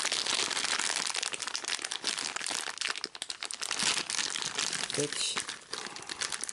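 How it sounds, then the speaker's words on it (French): A plastic bag of board game figurines crinkles and rustles loudly up close as it is opened and handled, with a brief spoken word partway through. "Bah, c'est les mêmes en fait. C'est un deuxième sachet qui contient exactement une deuxième série en fait des mêmes figurines."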